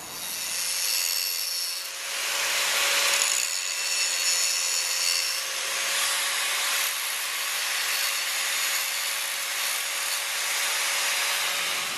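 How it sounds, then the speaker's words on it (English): A file rasps steadily over the metal lip of a front sprocket retainer clip from a Suzuki DR650, a close, continuous scraping in long strokes with no talk. "you have to shave almost all of that lip off the retainer clip"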